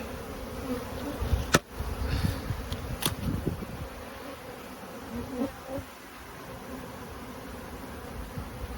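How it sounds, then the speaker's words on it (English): A dense, steady buzz of a honey bee swarm hums throughout, with a couple of sharp knocks and rustles near the start as bees are dumped from a hive cover. "That's a sea of bees right there."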